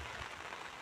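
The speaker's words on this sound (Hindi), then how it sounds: "तो अभी बारिश भी काफ़ी तेज़ हो गया है।" Heavy rain pours over open fallow fields under thick cloud, a dense, even hiss that fills the whole moment, steady and without any voices.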